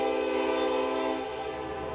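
A train horn blares steadily at a railroad crossing, loud and sustained over about two seconds and shifting slightly in pitch near the end, with no talk.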